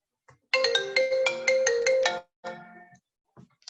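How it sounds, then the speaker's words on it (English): A mobile phone ringtone rings loudly and close in a repeating melodic pattern of bright tonal notes for about two seconds, then a shorter fainter burst follows before it cuts off. "Sorry, I forgot to put my phone on mute."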